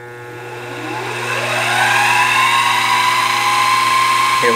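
A King Canada KC-20VS-2 milling machine running a new half-inch 4-flute cutter into 6061-T6 aluminum: a whining motor tone rises as the spindle spins up, then holds a steady loud hum and cutting whine.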